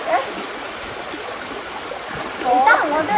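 A small stream's water rushes and splashes steadily nearby, with a faint brief voice near the end.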